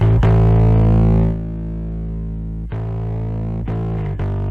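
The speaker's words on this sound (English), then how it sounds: "now distortion should inherently have compression in it" A thick, distorted bass tone sustains with gritty, buzzing harmonics, re-struck a few times with short attacks; loud and close, no voices.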